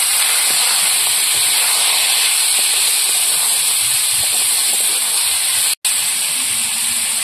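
Potatoes hitting hot oil in a kadai for poppy-seed potato fry make a loud, steady, unbroken sizzle and hiss, with one brief cut near the end.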